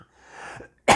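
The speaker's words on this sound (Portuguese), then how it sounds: "essa tosse está muito perseverante" A single sharp, loud cough bursts out at the very end, preceded by a softer breathy throat sound, from a pastor reading scripture aloud indoors.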